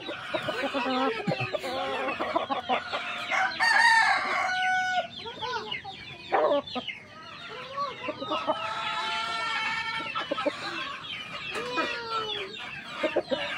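Sweater gamecock roosters crow repeatedly at a cockfighting derby, several loud drawn-out calls with clucking in between, close by and overlapping, with no talking.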